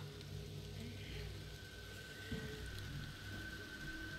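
Steady rain in a VR game world, with a soft wash of patter and drips that sounds like water running off a ceiling, holding an even, moderate level throughout.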